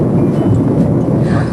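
A short burst of thunder rumbles loud and low, a dense continuous roll with no voices.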